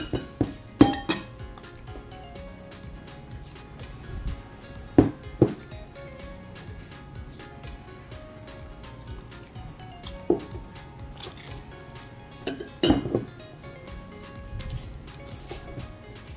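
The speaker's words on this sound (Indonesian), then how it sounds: "Pastikan semua bahan tercampur dengan rata ya teman-teman, seperti ini." Ingredients for onde-onde dough being mixed in a bowl, with scattered clinks and scrapes of a utensil against the dish, a few sharper knocks between quieter stretches.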